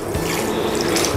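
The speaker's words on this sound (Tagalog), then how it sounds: "maglalagay naman po tayo ng tubig" Water poured into a cooking pot with raw pork for adobo, a steady close splashing and trickling wash running through the whole moment.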